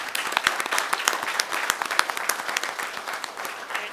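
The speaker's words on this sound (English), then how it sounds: "So we need a round of applause for Mr." A round of applause at a parish council meeting, a small crowd clapping with distinct individual claps in a brisk, uneven patter, moderately close and alone.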